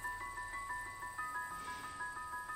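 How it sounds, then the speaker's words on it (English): A truck backs up outside in the video game Beacon Pines, its steady, rhythmic reversing beeps pulsing evenly, moderately faint, with no voices. "There's a truck out there right now."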